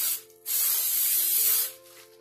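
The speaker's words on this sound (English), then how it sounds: "So now I'm going to go ahead and hit it with the hairspray." Aqua Net Extra Super Hold aerosol hairspray sprays in one sustained close hiss of about a second, preceded by a brief softer puff and fading out, with no voices.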